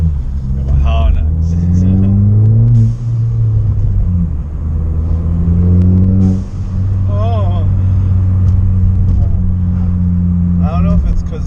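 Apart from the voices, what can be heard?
car engine revving while driving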